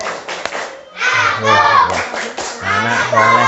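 A group of children, santri at an Islamic gathering, chant a rhythmic clapping song in unison, loud and close, with hand claps keeping time under their voices.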